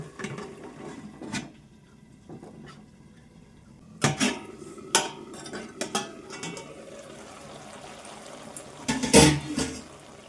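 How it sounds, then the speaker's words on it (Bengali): A lid comes off a pan of bitter gourd leaves cooking, marked by a few sharp metallic clanks and rattles close by, followed by faint bubbling and scattered clatter. "ঢাকা তুলে নিলাম, দেখুন একদম গলে গেছে শাকগুলো।"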